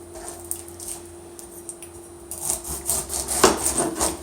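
A knife slices the bottom off a fresh pineapple, producing close, crunchy scraping cuts that start after a quiet stretch with a steady background hum.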